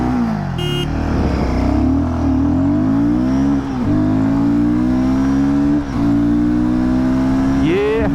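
A motorcycle pulls away in first gear during a 0–100 acceleration run comparing a 2024 Royal Enfield Guerrilla 450 and a Harley-Davidson X440S. The engine is loud and close, rising in pitch, with brief dips at gear changes.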